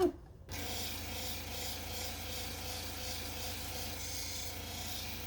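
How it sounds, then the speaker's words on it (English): A piece of Holley Blue agate grinds against a spinning 1200 grit Nova polishing wheel, making a faint, steady rubbing hum after a brief pause at the start. "So the next stage is the 1200 grit Nova wheel"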